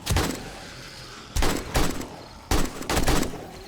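AK rifle fire in 7 Days to Die during a horde night comes in three sharp bursts of rapid shots, loud and close, with brief pauses between them.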